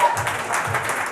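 Audience clapping at a Flutter developer event, a short burst of scattered claps with faint murmuring underneath, moderately loud.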